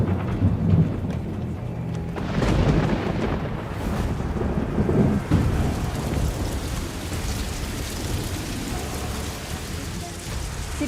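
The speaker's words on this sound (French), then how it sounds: "là il y a l'orage et ça gronde fort" Heavy rain and hail pour steadily while rolling thunder rumbles loudly and repeatedly overhead, with pattering hail impacts across the whole storm.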